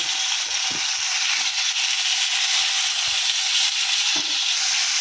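Chicken frying in a little oil for restaurant-style mixed fried rice, a loud, continuous sizzle throughout with faint stirring knocks underneath and no voices.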